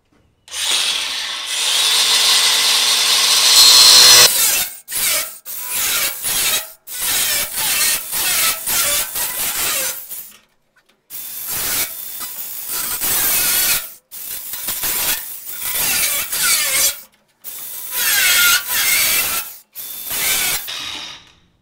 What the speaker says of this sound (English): what I'm going to do is just grind out these tack welds